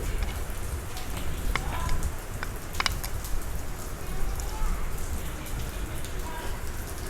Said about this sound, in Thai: ฝนตกลินลินแต่ตกเบิดมือ